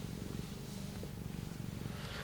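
A cat purrs softly and steadily close by, a low rhythmic rumble pulsing with each breath, faint and alone without speech.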